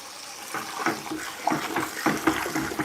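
Scalding hot water runs from a tap while mead-making equipment is being cleaned, a splashing, gurgling flow with uneven bursts, fairly close and moderately loud.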